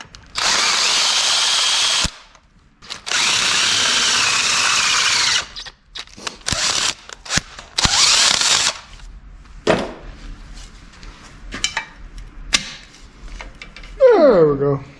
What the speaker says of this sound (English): Gonna have to drill it.